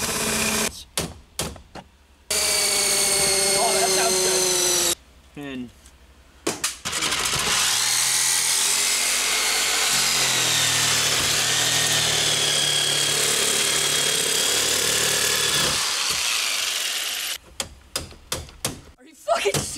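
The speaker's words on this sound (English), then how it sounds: "Ooh, hammer drill." A hammer drill starts with several short stuttering bursts, runs loud and continuous close by for about ten seconds, then breaks off into a few quick final bursts.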